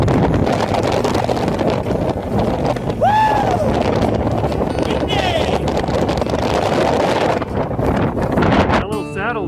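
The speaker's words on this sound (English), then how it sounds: "It's so windy." Strong wind gusts across a high mountain saddle on a backpacking trip, roaring and buffeting the microphone in a loud, continuous rush, with a brief whistling tone partway through.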